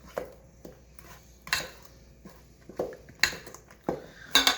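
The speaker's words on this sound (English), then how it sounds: "we're going to mix the cinnamon into the batter" A spoon mixes cinnamon into homemade coffee cake batter. Irregular clinks and scrapes of the spoon against the bowl come close by, with soft thuds between them.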